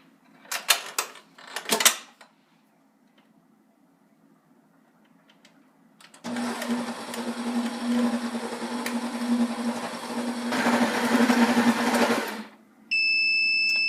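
A stand mixer with a dough hook kneads baguette dough at medium-low speed, a steady whirring motor hum running for several seconds after a few short knocks, with no talk.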